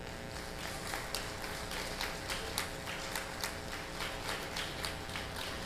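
Church congregation clapping in a steady, rhythmic beat, a continuous wash of many hands with regular accented claps, heard from within the room at moderate loudness with no talking over it.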